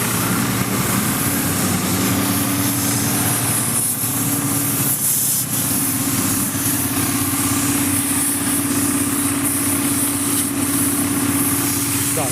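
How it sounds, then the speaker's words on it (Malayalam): A large road-construction vehicle works on NH 66 at Randathani, its heavy engine droning loud and steady throughout with no break and no talk. "ഏറ്റവും വലിയ വണ്ടി തോന്നുന്നു ഇവിടെ എത്തിയിട്ടുണ്ട്"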